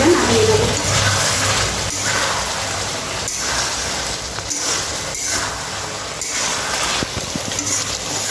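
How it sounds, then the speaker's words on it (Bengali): Chicken do pyaza with chopped coriander leaves is stirred in a frying pan, giving a continuous loud sizzle with the scrape and churn of the spoon running steadily throughout. "আমি এটা নাড়িয়ে দেব।"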